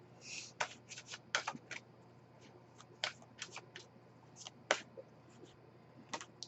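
Tarot cards shuffled and drawn on a table, a quiet run of crisp riffling flicks and slaps in irregular bursts, close and soft with no talk over them.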